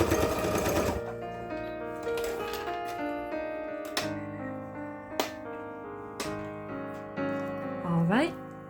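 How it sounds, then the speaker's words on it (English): Sewing machine stitching a small floral keychain, running in short bursts with steady whirring and clear start-stop pauses and clicks, loud and close. "But I'm going to go ahead and sew it. Put this on and then sew it."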